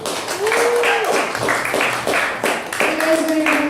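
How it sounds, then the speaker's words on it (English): A comedy-show audience claps for a female stand-up comedian being introduced. The clapping is mixed with cheering and whoops, in uneven bursts, with voices over it. "Please give a huge round of applause for Amrita."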